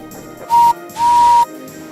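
A steam engine whistle blows twice, a short clear blast followed by a longer sustained one, loud and alone.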